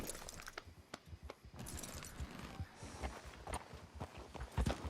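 Horse hooves walking at a steady clip-clop in Red Dead Redemption 2, the irregular footfalls fairly faint amid tack jingles and outdoor ambience, with no talk.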